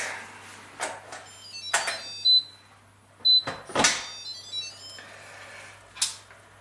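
Instant Pot pressure cooker giving a few sharp electronic beeps spaced apart among kitchen clatter and handling noise, fairly close with no talking.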